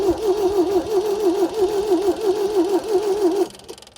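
A 1974 MG engine that has sat parked for 30 years cranks over steadily with a rhythmic, wavering whine and chug for about three and a half seconds, then cuts off without catching.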